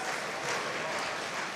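A brief, fairly soft burst of audience applause at a high school choir spring showcase, a blur of many hands clapping that lasts under two seconds.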